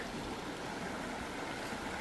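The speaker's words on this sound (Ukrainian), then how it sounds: "ця вода вона з джерела починається. І ось спускається вниз по камінчиках." Clear mountain spring water in the Carpathians runs down over small pebbles, a steady close rushing and gurgling that stays even throughout with no voices.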